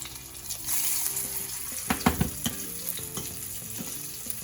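Canned salmon patties fry in a hot pan with a dense, bright sizzle and crackle, broken by a cluster of louder pops and spits near the middle.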